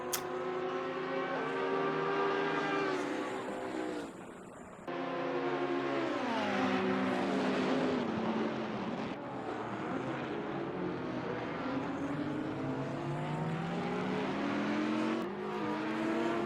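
GT race cars in the sim racing game Assetto Corsa Competizione roar continuously at the Nürburgring, with engines rising through gears, brief dips as they shift, and overlapping engine notes from nearby cars.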